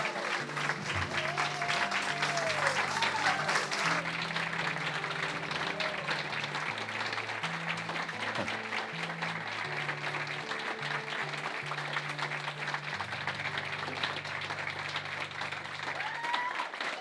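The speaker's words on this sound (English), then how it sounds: "let's stand up together and clap for them" A church congregation stands and claps at an ordination service, dense sustained applause filling the room for the whole stretch, with a low sustained musical tone running beneath.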